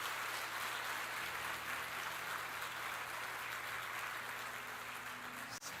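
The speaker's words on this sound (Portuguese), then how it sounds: "Sabe que você pode dar um aplauso ao Senhor por isso?" A church congregation claps together in praise, giving sustained, steady applause throughout that sounds somewhat distant and moderately quiet.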